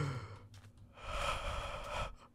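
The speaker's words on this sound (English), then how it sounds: "What is with the breathing?" Heavy breathing in the game Minecraft, a long drawn breath with sighing, gasping exhales at low volume, steady and close, with no talk over it.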